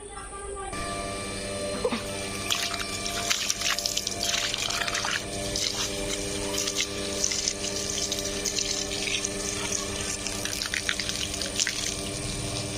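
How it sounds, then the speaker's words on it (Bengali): Water gushes steadily from a pipe onto garden plants, a continuous splashing, hissing stream close by that keeps going throughout. "চলো গাছগুলো একটু জল দিয়ে দিই"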